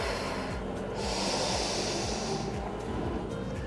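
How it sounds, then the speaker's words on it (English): Steady, close breathing in and out during a yoga flow, heavy airy rushes over a continuous low rumbling background, no speech. "Don't forget to breathe. Inhale, exhale."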